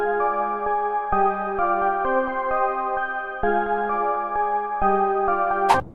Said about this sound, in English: So the first thing I added was some bells.